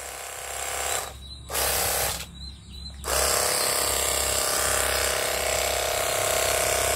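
A cordless 48V pressure washer sprays steadily as a broad, continuous hiss over a low motor hum, briefly cutting out twice before running on without a break.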